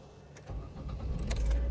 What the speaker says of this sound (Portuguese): Vamos ver se o carro é bom, você pega ele primeira.